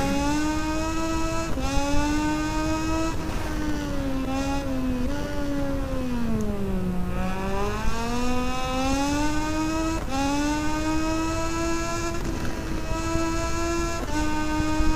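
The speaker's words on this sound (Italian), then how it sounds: "bel rumore che ha la moto 2" A Moto2 racing motorbike engine in MotoGP 19 drones steadily and loudly, its pitch climbing and falling through gear shifts and a long dip as it slows and pulls away again, with no talk.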